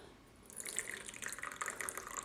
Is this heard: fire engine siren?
no